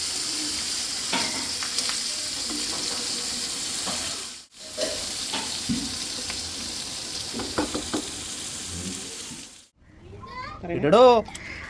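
Fish frying in oil in a home kitchen, a steady broad sizzle running throughout with brief breaks and stirring knocks, while a voice and other talk come through faintly underneath.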